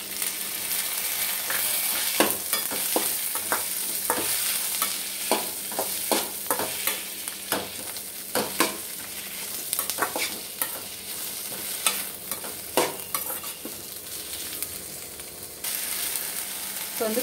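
Onion, garlic and a cup of chopped tomatoes fry in a pan for a brinjal and avarakkai seed kara kuzhambu, a steady close sizzle broken by repeated scraping stirs of a spoon, with no one talking.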